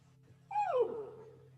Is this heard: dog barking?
yes